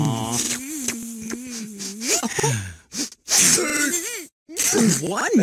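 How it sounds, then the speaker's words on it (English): A cartoon-style sneeze bursts out in the middle of lively animated children's audio, with sung or spoken voices around it and short gaps of silence. "One big sneeze."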